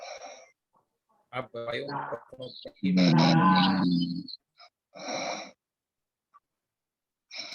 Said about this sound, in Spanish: Creo que hay uno roncando